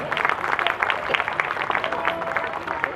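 A crowd at a social organisation's function honouring mothers applauds, with steady dense clapping from many hands that is continuous and moderately loud throughout, and no one speaks over it.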